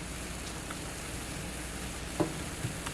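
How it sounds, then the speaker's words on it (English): Onions frying over high heat in a pan give off a steady, even sizzle and crackle that runs throughout, with a couple of brief louder pops near the end. "you can see that my onions are softening up nicely"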